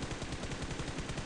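Rapid automatic gunfire from the PUBG Mobile video game, a dense continuous burst of shots that stays loud and steady throughout, with no talking.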